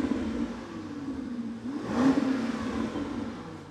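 A Range Rover Sport SV with an upgraded exhaust rumbles at idle, then swells into one deep rev around midway before easing back, heard fairly close and alone.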